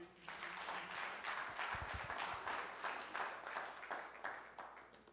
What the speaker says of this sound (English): Let's give a big round of applause to Jocelyn McCalla.